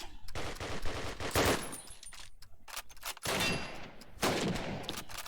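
Gunfire in a competitive shooter video game match, bursts of rapid shots and sharp cracks in clusters, some loud and close, separated by brief quieter gaps.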